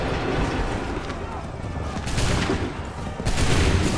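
A musket volley in the video game Assassin's Creed III, several crackling shots in a row over battle noise, growing louder toward the end while voices shout.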